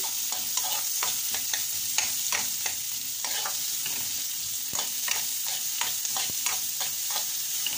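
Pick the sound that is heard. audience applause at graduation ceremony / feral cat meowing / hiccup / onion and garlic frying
onion and garlic frying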